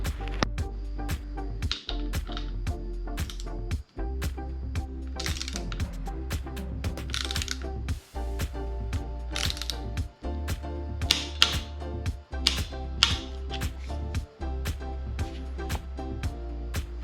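Bicycle stem bolts on a 2020 Ragley Big Al being tightened with a torque wrench during an Industry Nine stem install, heard as steady ratcheting clicks with occasional sharp snaps and taps, close and fairly quiet.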